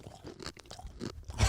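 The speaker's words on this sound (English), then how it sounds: "Good luck listening to this chewing noise" Someone chews crunchy fried salami close to the microphone, a series of crisp crunches and wet bites across a second and a half, louder at the end.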